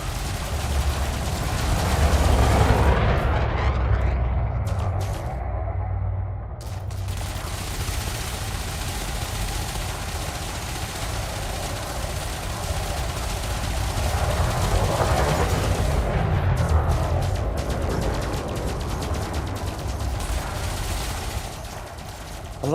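Ship weapons fire in sustained rapid volleys during a space dogfight in Elite Dangerous, a dense, loud rattling roar that continues almost unbroken under low engine rumble.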